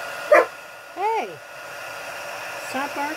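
A dog barks once sharply, then gives a whiny, rising yelp, with a few softer yips later, all over the steady blower hum of a heat gun.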